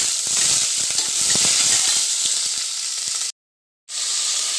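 Onions sautéing in a pan with tempered cinnamon, cardamom, cloves and bay leaf, a steady close sizzle with dense crackling that briefly cuts out near the end and then resumes.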